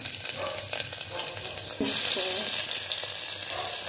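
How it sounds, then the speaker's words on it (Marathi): Garlic, onion, cumin and mustard seeds hitting hot oil for a tempering, the sizzle jumping abruptly louder midway into a close, bright hiss with stirring scrapes and no talk. "लसूण कांदा जिरे मोहरी ची फोडणी द्यायची आहे"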